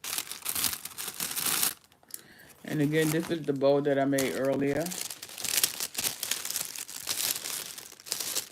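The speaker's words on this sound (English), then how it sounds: "I like this paper. I just like the noise" Wrapping paper for a Christmas gift basket crinkles and rustles loudly in bursts while someone talks over it, with the crumpling continuing intermittently after her speech.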